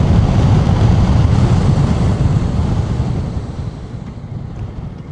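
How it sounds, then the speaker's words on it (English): Heavy wind blast roars across the microphone of a 2025 Yamaha Tracer 7 motorcycle riding at 60 mph. The dense low buffeting stays loud and constant, then eases gradually toward the end. "There's a lot of wind blast on the side."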